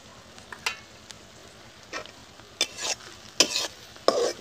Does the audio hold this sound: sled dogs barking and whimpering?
no